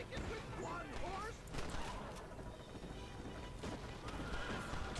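A horse whinnies in the Red Dead Redemption video game amid hoofbeats and a rumbling, busy mix, with a voice speaking over part of it.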